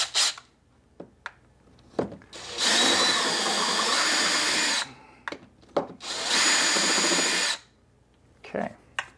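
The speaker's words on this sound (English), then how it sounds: "take my countersink bit right here, and we're going to countersink a hole for it" Power drill with a countersink bit countersinking a screw hole in a 3D-printed controller cradle: two loud, close bursts of a couple of seconds each, separated by short clicks, handling noises and brief talking.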